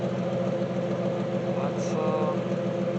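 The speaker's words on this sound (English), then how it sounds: "Sounds like all cylinders are firing, so that's good." BMW E36 with an M50 engine idling after a fuel filter replacement, a smooth, steady mid-pitched hum that stays constant and close throughout, with no talk.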